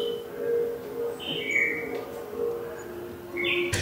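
Small birds chirp in brief, bright tweets at intervals over a low, steady background hum, sounding slightly muffled and enclosed, coming from inside a cabinet in a theme-park shop.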